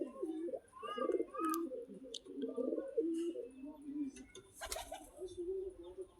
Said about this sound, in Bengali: এগুলো হচ্ছে সিলভার কালারের দুটা কবুতর। এরা দুইজন ঘরের মধ্যে বসে আছে।